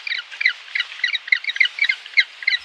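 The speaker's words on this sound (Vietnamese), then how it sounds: "Penguin." Penguin calls sound as a rapid series of short, nasal honking squawks in a steady repeating rhythm, fairly close and alone.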